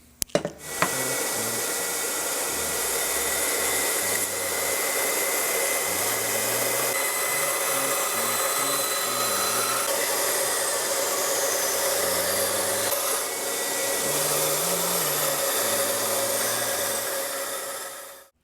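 A router in a router table flush-cuts an electric guitar fretboard, using the side of the neck as the template. After a few knocks it gives a loud, continuous high-pitched whine that holds for about seventeen seconds, close and alone.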